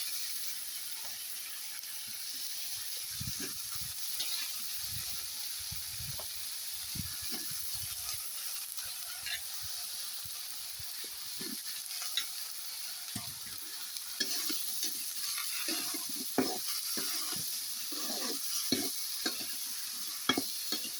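Vegetables sizzle in a hot pan under steady frying hiss while a utensil scrapes and stirs in irregular bursts, close and moderately quiet, growing busier toward the end.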